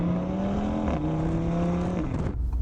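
A 2018 Audi RS3 quattro engine drones loudly and steadily nearby, its pitch stepping up and down with the gear changes before cutting off sharply near the end.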